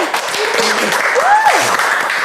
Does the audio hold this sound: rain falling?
no